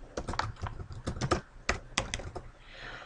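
Keys on a computer keyboard clatter in quick irregular bursts of typing, close and fairly quiet, with short pauses between runs and no talking.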